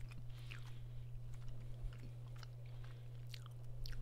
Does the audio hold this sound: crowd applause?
no